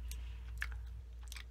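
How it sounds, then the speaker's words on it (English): Soda-flavored Japanese gum being chewed close to the mouth, with a few soft moist bites and smacks spread over a quiet background hum, no talking. "I think it's gum. I'm chewing it and it won't go away."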